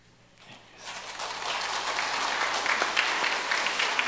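Congregation at a Sunday church service applauds to welcome a newly registered member, the clapping rising from quiet after about a second into a steady, moderately distant wash.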